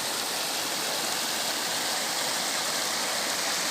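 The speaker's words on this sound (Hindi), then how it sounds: "पानी बहात है" Steady rushing flow of a stream at the Boirpadav picnic spot, a broad continuous wash of water filling the scene at close range with no voices over it.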